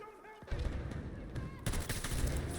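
Gunfire from a new weapon in the video game Battlefield 2042, bursts of rapid shots close and loud, with a pause and then a denser stretch of automatic fire near the end.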